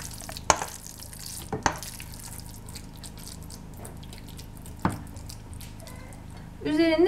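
A spoon stirs grated carrot salad with yogurt in a bowl, giving a few soft, sharp clicks and scrapes over a quiet background, with a brief rising tone near the end.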